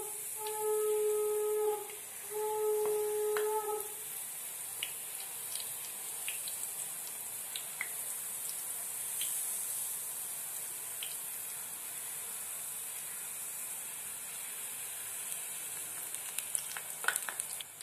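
Jalebi frying in moderately hot oil gives a steady, soft sizzle that runs unbroken, with a few brief tonal beeps at the start and light clinks of stirring later on.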